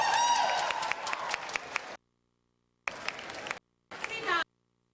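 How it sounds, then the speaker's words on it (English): Bursts of clapping and cheering from a crowd, loud at first, then cutting out and returning in two shorter bursts. "Big round of applause for you guys."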